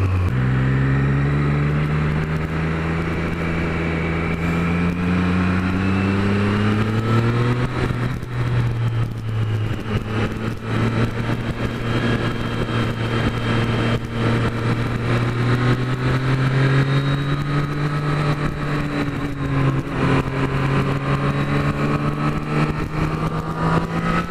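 A Triumph Street Triple 765 three-cylinder motorcycle engine roars steadily up close, its pitch rising and falling as it revs through gears, loud and continuous throughout.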